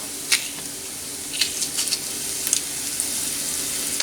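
Big garlic cloves sizzle gently in a pan as marinara sauce begins, a steady soft frying hiss with a few brighter crackles and pops scattered through, and no talking.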